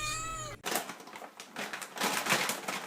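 A cat gives one short, clear meow right at the start, then a burst of busy rustling and clattering noise follows.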